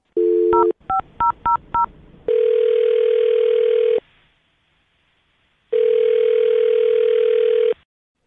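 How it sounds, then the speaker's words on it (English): A phone line gives a short tone, then a quick string of touch-tone dialing beeps, followed by two long steady ringback tones separated by a silent gap, clean and loud with no talk. "I'm going to dial his phone number right now"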